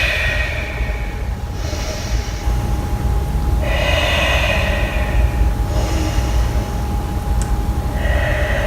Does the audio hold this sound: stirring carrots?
no